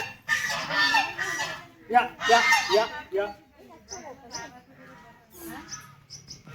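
A voice talks at first, then several short, honking duck quacks follow close by, spaced irregularly, as ducks beg for food in a village near Murbad.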